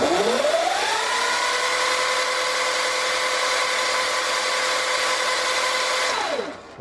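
An electric motor on a KO Moto controller setup spins up with a rising whine, holds a steady loud hum with tonal overtones for about five seconds during calibration, then winds down at the end, alone and up close.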